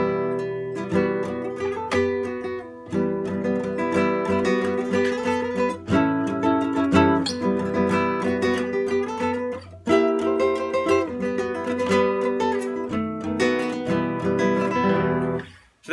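An acoustic guitar strums chords steadily with a regular rhythm, changing chords every few seconds, clear and unaccompanied.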